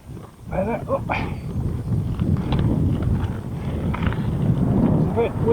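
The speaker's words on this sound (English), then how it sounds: "It's a bit windy in the trees, mind, but it is nice." Steady wind rushing through trees on a mountain bike jump trail, roaring across the microphone throughout, with a voice speaking briefly over it.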